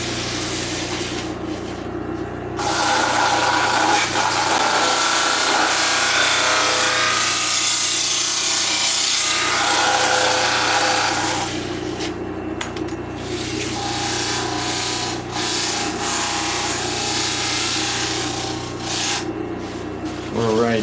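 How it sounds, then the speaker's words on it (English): Wood being sanded down toward a marked guide line, a steady loud rasping and rubbing that runs continuously with brief pauses near the start, middle and end. "So we're using that line as a sanding guide so you don't sand too deep."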